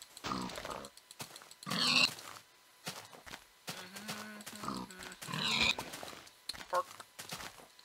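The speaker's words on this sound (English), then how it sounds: "I should go and murder all of these pigs" Pigs oinking in the video game Minecraft Beta 1.4, several short grunting oinks in bursts spread through the clip, with a person talking over them between calls.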